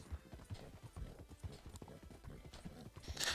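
Arabian horse hooves in a Red Dead video game clip-clop in a steady trotting rhythm, moderately close and fairly quiet, with a brief brighter burst at the end.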